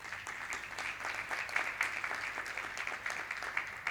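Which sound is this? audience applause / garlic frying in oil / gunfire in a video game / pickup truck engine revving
audience applause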